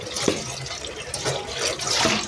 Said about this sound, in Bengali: চাল ধুতে।